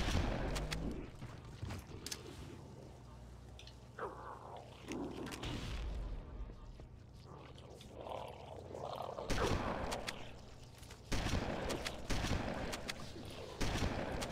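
Bursts of Halo video game gunfire crackle and thump in irregular volleys, with explosive booms scattered throughout.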